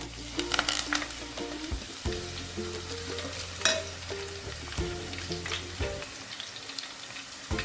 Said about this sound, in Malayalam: എണ്ണ ചൂടായി നമുക്കാദ്യം ഒരു അഞ്ചാറ് വെളുത്തുള്ളി ഒന്ന് ചതച്ചത് ഇട്ട് കൊടുക്കാം